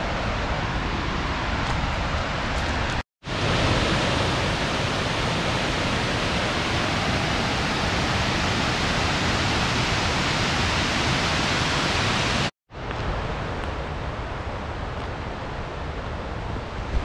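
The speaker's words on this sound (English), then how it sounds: "let's go see some waterfalls" Steady, dense roaring rush of falling water at Twin Falls, Tennessee, loud and constant, with two brief cuts to silence breaking the flow.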